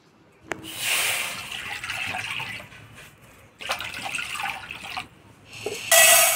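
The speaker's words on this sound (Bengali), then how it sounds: "ছোলার ডালটা ভালো করে ধুয়ে নিলাম" Split chickpeas (chana dal) are washed under running water in a kitchen, a steady splashing and rushing flow that pauses briefly and resumes, close and fairly loud.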